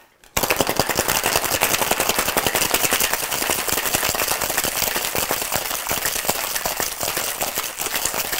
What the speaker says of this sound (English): Lock our tins and shake.